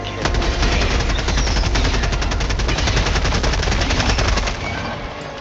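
Sustained heavy automatic gunfire in Helldivers 2, a loud and continuous rapid rattle of shots close by that runs unbroken for several seconds before easing slightly at the end.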